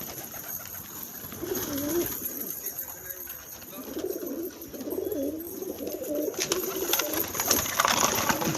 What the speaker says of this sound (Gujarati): તો આપણે ખોલી નાખીએ કબૂતર